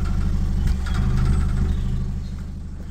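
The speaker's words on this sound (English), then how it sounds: "So you got the exhaust bracket rattling as well" An idling Ford Fiesta with a slight misfire chugs in an even low pulse, a faint metallic rattle from a loose exhaust bracket riding over the engine, steady and close without voices.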